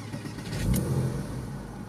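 A Porsche 986 Boxster S flat-six engine, showing a check engine light, cranks and catches, then settles into a steady, fairly loud idle close by.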